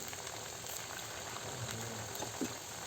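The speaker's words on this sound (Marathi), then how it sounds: "तेल छान प्रकारे गरम झालं आहे आपण भट्ट्या टाकून घेऊया तळण्यासाठी आणि मंद आचेवर तळून घ्यायच्या आहेत" Dal bati dough balls frying slowly in hot oil over a low flame, giving a steady soft bubbling sizzle that stays quiet and even throughout.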